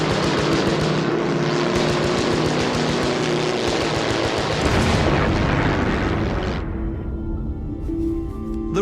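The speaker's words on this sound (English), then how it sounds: "the aircraft would pick them up." A military aircraft roars loudly overhead in a heavy, droning pass whose roar drops away and thins toward the end.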